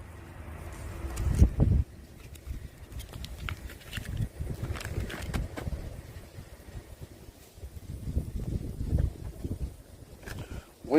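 Gusty wind in the Adirondack mountains buffets the microphone in low rumbling surges, strongest near the start and again toward the end, with no voices.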